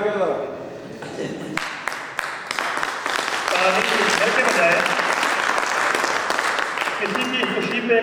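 An audience breaks into sustained applause that builds and stays dense and loud, with a voice speaking over the start of the clapping.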